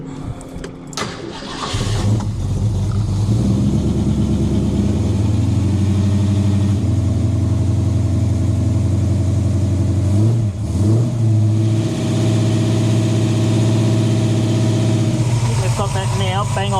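A car engine, just back running after a failed distributor was repaired, cranks and catches, then runs loud and rough with a steady drone and a couple of revs partway through, while people talk over it.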